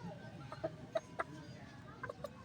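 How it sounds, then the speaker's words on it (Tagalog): Small pet chickens cluck in short, separate bursts, several soft calls spaced across a couple of seconds over a low background hum, fairly close by. "Yan yung aking mga alagang manok na malilinggit."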